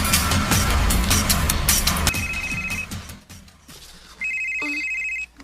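A telephone rings in a tense domestic drama scene, bright repeated electronic ring bursts cutting through earlier loud background music, the last ring loud and steady near the end.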